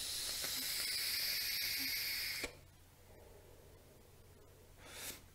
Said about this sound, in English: Now let's go ahead and give it a quick vape.